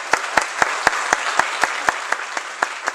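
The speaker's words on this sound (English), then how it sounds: "Let's give all of them a round of applause." A church congregation applauds during a winter cantata service, thanking readers, choir and a guest orchestra; steady clapping fills the room with regular sharp claps standing out about four times a second.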